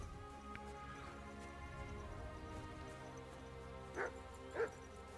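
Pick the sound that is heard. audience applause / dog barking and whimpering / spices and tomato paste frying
dog barking and whimpering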